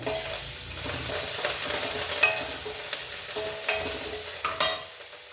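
Amla (Indian gooseberry) frying in hot tempering oil gives a steady close-up sizzle, with occasional scraping taps from stirring in the pan.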